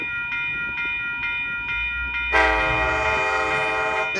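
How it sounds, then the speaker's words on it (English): An Amtrak Capital Corridor northbound train to Sacramento passes on 98th Ave in Oakland, California, sounding a few short horn toots before a loud, sustained horn blast over a low rolling rumble, with no talking. "northbound train to Sacramento."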